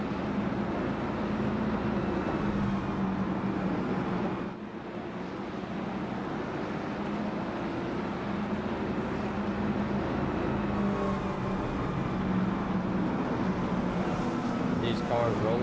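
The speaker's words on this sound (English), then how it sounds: "Cars rolling by." Cars roll past on a race track in a steady, loud drone of engines and rumble that swells and fades slightly, with a person talking over it.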